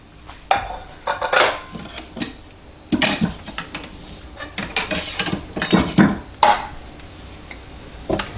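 A plate and a knife clink and clatter on a countertop at close range while ribs cooked in a NuWave oven are being served, bursts of sharp handling sounds separated by brief pauses, no talking.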